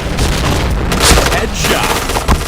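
A grenade explodes in the first-person shooter game Point Blank, a loud booming blast about a second in, set among steady game noise and gunfire, with players talking over it.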